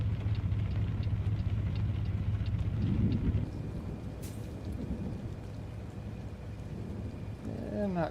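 Steady rain with low rumbling thunder in a truck-driving game featuring a Kenworth W900, a dense wash of noise throughout that softens midway, with a brief bright crackle and a rising tonal whine near the end.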